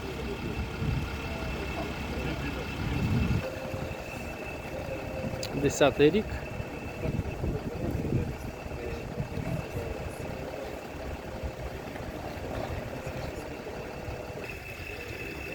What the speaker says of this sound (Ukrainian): Моторчик шепче.